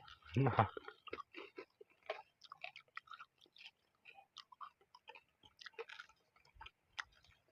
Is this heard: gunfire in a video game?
no